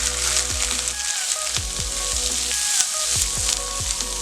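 Chopped onion sizzles and fries in a pan, a steady crackling hiss broken by regular stirring scrapes roughly every second, with no talking.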